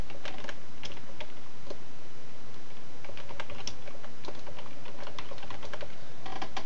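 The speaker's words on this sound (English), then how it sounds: "then in Notepad, you like to type" Steady typing on a computer keyboard while entering text in Notepad: rapid, close key clicks in continuous bursts, with no voices.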